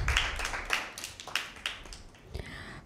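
Applause for team A during a Bible quiz with a school group: a handful of sharp claps near the microphone, uneven and sparse, fading out after a few seconds.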